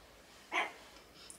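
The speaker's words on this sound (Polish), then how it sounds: "Ale czemu ta tak szczeka?" A single short dog bark rings out in a home kitchen, clear but moderately distant, against a quiet background hum.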